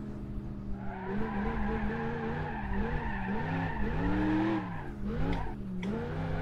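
A car in BeamNG.drive slides and drifts across snow, its engine revving loudly and wavering in pitch as the tires skid and squeal, with a few brief sharp noises toward the end and no talking.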